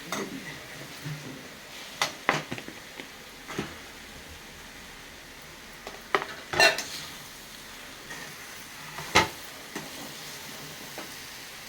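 Ugrani, a puffed-rice dish with coriander, is stirred in a pan on the stove. A spoon scrapes and clinks against the metal now and then over a faint, steady sizzle, with quiet pauses between strokes.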